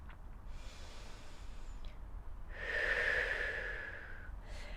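Slow, audible breathing of a person holding a lying chest stretch over a foam roller, a soft breath followed by a longer, louder airy exhale, close and quiet with no talk.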